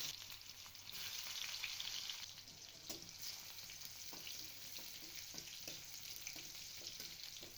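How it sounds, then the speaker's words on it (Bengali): Crushed garlic cloves and fenugreek seeds fry in hot oil with a soft, continuous crackling sizzle and scattered small pops. The sound is faint and steady, with no talk. "৫ কোয়া থেঁতো করা রসুন ছেড়ে দিচ্ছি।"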